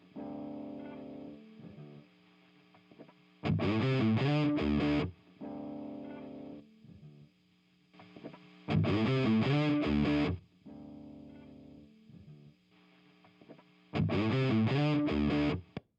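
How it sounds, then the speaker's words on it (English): Electric guitar run through a Tube Screamer TS-808 overdrive VST plugin gives loud, distorted chordal bursts that alternate with cleaner sustained passages, repeating three times with no talking. "you can go and download a VST that is the Tube Screamer, the TS-808."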